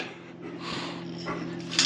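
Farm dogs make brief whimpering and yipping sounds near a pig pasture, faint and close against a steady background hum, with a few short sharper bursts.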